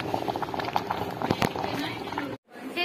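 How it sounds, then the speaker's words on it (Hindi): Potatoes boiling in a pot on a hostel stove give a close, busy bubbling and popping that cuts out briefly near the end before resuming. "इधर आलू उबल रहा है"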